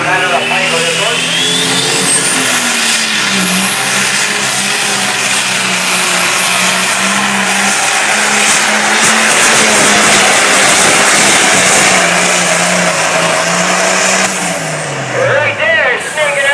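Super stock single-charger pulling tractor roaring steadily at a loud, sustained pitch as it drives down the track, the engine note shifting partway through, with crowd noise and an announcer talking over it.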